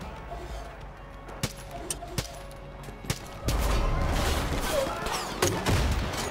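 Gunfire and cannon fire in Far Cry 5: sharp single shots crack at intervals, then a heavy sustained roar of artillery and rumbling that continues loudly, with faint voices underneath.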